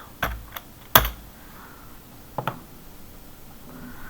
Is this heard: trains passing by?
no